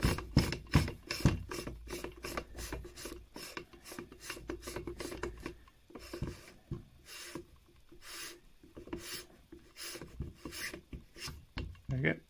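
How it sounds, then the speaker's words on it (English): Threads of an Altair Planostar M92 0.8x reducer screwed by hand onto the focuser of an Altair 125mm refractor: close, rhythmic scraping and rasping bursts from turning metal, pausing briefly midway before the gritty strokes resume. "make sure we get those threads in right, which is rather hard to do with one hand"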